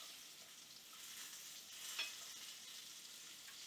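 Breaded pork coated in crushed pork rinds browns in a frying pan, giving a soft, steady sizzle and hiss with a brief louder crackle midway, heard alone and fairly faint.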